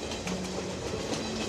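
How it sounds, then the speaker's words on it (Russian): Train carriage wheels rattling over rail sleepers, a steady rumbling clatter heard from inside the moving car, continuous and moderately loud with no speech. "Колеса застучали по шпалам"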